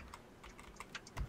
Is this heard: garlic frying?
no